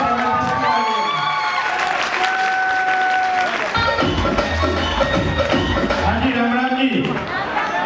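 An audience at a large business motivational seminar claps loudly and cheers, with crowd noise and voices mixed into the sustained applause throughout.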